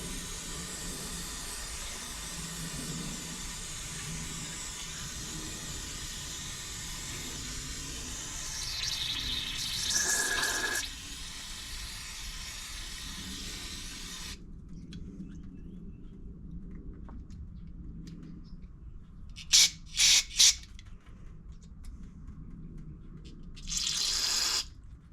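Spray nozzle rinsing a Honda HRX2173VKA lawn mower, a steady broad water hiss for about fourteen seconds, then quieter with short bursts of spray later on, no talk.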